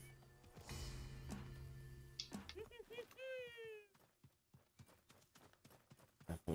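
Horse hooves clip-clop in a steady, fairly close rhythm while riding in an Xbox One video game, with game sounds and a brief creature-like cry partway through.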